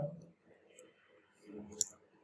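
A single sharp keystroke as Ctrl+Enter is pressed on a computer keyboard, a faint, brief click standing out over a low, quiet murmur.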